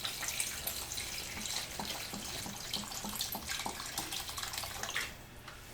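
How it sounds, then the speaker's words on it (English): Water pours steadily into a stew pot, a continuous close splashing rush lasting several seconds before trailing off, with no voices. "since it's starting to get awfully full, I am going to add some water"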